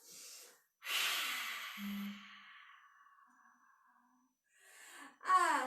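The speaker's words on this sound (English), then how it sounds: "Breathe in through your nose now and breathe out through your mouth" A person doing Tai Chi breathes in through the nose and out through the mouth, close to the microphone. A short inhale is followed by a long, slow, airy exhale, then another breath begins.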